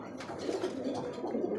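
A single male pigeon coos in a brief, low, throaty warble, close but soft, with no one speaking over it.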